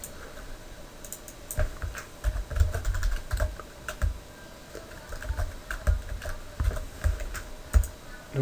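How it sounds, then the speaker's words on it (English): Typing on a computer keyboard at a desk, bursts of quick, irregular key clicks with short pauses between them, close and fairly quiet, with no voices. "Okay, so I'm going to have to type that in by hand."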